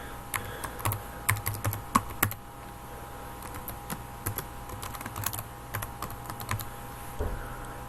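Someone types an email address on a computer keyboard, a close run of irregular key clicks in quick bursts with short pauses, then a final louder tap.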